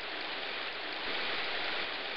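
A waterfall in Freddi Fish and The Case of the Stolen Conch Shell roars as a steady, dense rush of falling water, constant and fairly loud throughout.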